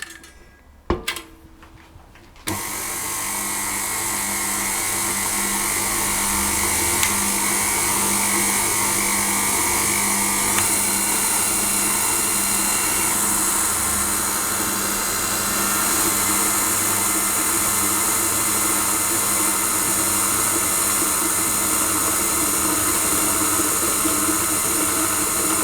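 An electric mixer on slow speed mixing chocolate crinkle cookie dough with dry ingredients just added, starting after a few brief bumps and then whirring steadily and loudly for a long stretch without pause.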